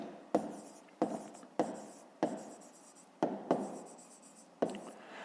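Pen writing out a fifth-grade math solution on paper, a close, quiet series of six or seven scratchy strokes, each starting with a sharp tap and trailing off.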